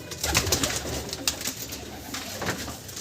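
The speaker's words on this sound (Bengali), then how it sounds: "কালদম পায়রা দেখুন" Kaldam pigeons, a high-flying breed, coo in soft repeated low throaty calls close by in a loft, with light rustling and faint bird noise around them.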